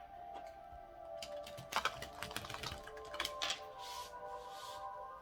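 Tarot cards being shuffled during a reading, soft papery riffles and taps in short bursts, quiet and close, with a faint steady hum underneath.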